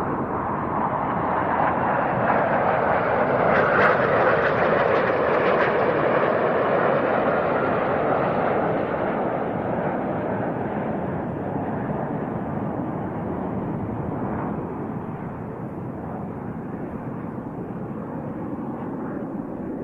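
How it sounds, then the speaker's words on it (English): Swiss Patrouille Suisse F-5 display jets pass directly overhead at an airshow, a loud broad jet roar that peaks early and then slowly recedes into a fading rumble. "here come the Patrouille Suisse directly overhead"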